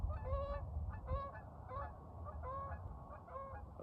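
Several geese honking in a loose series of calls, fairly faint over a low background rumble.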